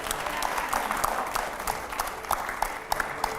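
Studio audience applause during a televised editors' show, a steady wash of many hands clapping at moderate volume for the whole stretch, with sharper individual claps standing out toward the end.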